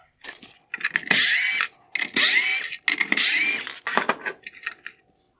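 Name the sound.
removing three T20 screws from a Tesla tail light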